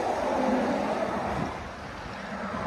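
Strong headwind roars steadily past a moving truck, a broad buffeting rush that eases a little partway through.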